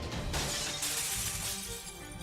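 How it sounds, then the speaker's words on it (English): Glass shatters and rains down in the Fate Grand Order video game, a loud crash followed by a dense, sustained spray of falling shards lasting about two seconds. "Why is it raining glass?"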